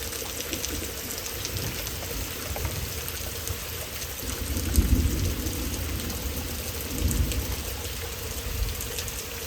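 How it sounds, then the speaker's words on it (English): Steady rain falls in a continuous hiss, with low rumbles swelling midway and again near the end, no voices present. "Rain just falling."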